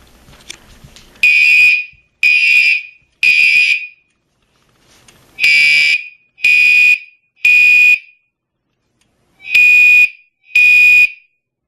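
A fire alarm system demonstration sounds a loud, piercing electronic horn in a California code pattern: three blasts, a pause, three more, another pause, then two more, with faint rustling in the quiet gaps.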